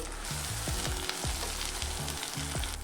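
Gongura sorrel leaves sizzle and fry in a pan for pulihora, with repeated scraping stirs at a steady rhythm, close and loud, no voices.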